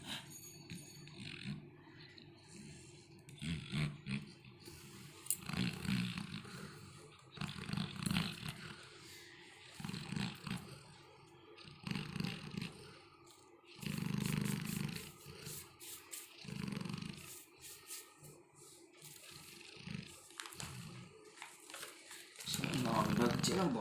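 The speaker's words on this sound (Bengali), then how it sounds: "নাক ডাকছে না বাজ পড়ছে বোঝা যাচ্ছে না।" A Labrador dog snores loudly in deep sleep, with rumbling, rattling breaths coming in irregular bursts, close and prominent.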